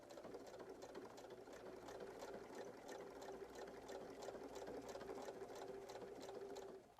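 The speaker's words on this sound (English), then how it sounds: "after sewing that lining fabric in place" A sewing machine stitches lining fabric in place, running at a steady rapid clatter for several seconds with a fine continuous hum underneath, heard close and fairly quiet without any speech.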